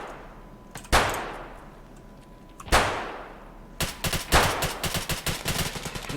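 Gunfire in the video game Escape from Tarkov: two loud single shots a couple of seconds apart, then a fast burst of automatic fire, with no talking.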